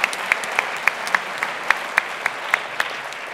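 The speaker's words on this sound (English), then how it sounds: "I'll give them applause." Applause at a university lecture comes as evenly spaced, crisp claps at a steady rhythm, fairly close, over a quiet room background.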